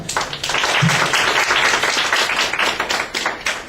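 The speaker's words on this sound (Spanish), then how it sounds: "Démosle la bienvenida al doctor con un fuerte aplauso." A seminar audience welcomes the speaker with applause, a short, lively burst of close hand clapping at steady strength with individual claps standing out near the end.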